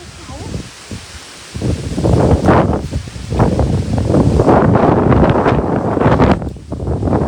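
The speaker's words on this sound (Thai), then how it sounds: "ลมอะไรเนี่ย" Strong wind buffets the microphone at a cave site called Phaya Nak Cave, roaring in loud continuous gusts with rustling, while someone speaks over it.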